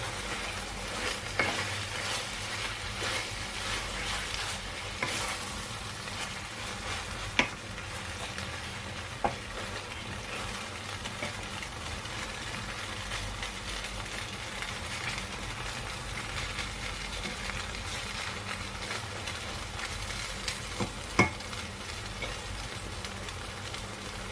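Beef strips stir frying in a little olive oil, with a steady broadband sizzle running throughout and occasional sharp clicks of a utensil against the pan, no voices.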